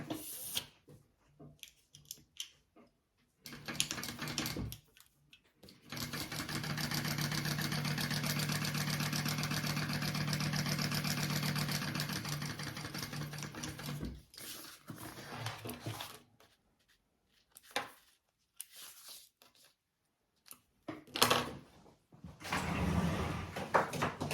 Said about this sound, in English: Okay, I'm just gonna top stitch that.